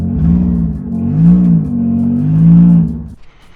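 A car engine revs loudly and close above 3,000 RPM, holding a strong, steady drone with two swells before it drops away quickly.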